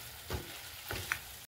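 Meat cooked with meat masala fries in a pan, a soft steady sizzle broken by a few brief stirring scrapes, heard close and fairly quiet.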